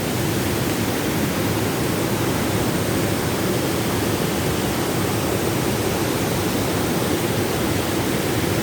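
After heavy rains, floodwater pours into the Ruidera lagoons in Ossa de Montiel with a loud, steady roar close up, a dense rushing wash that never lets up.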